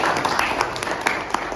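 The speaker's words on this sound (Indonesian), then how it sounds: "beri tepuk tangan buat kelompok 5" A classroom of junior high students in Jakarta gives a student group a short round of applause after a presentation, scattered, fairly light claps overlapping for a moment.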